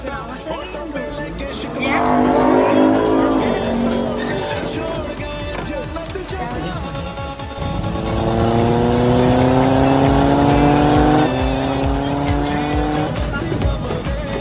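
A three-wheeled vehicle jokingly called a KTM bike runs with its engine revving and surging in two long rising pushes, loud and close, while voices talk over it.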